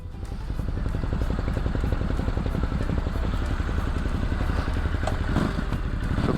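A 2022 Ducati Hypermotard 950SP on the move, its engine a steady, loud, rumbling drone with rapid pulsing throughout, close up and continuous, with wind noise and no talking.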